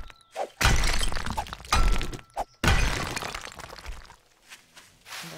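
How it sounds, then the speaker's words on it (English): Rocks are smashed in the video game 7 Days To Die, several loud, close crunching impacts with breaking debris, spaced irregularly across a few seconds. "For the time being, I'm beating up some rocks to get their iron goodness."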